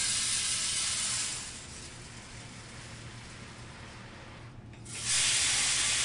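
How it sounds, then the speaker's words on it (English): A steady rushing hiss of a grain sample pouring into a Boerner divider hopper, continuous for several seconds with a brief dip before it swells louder again near the end. "Pour the sample into the hopper."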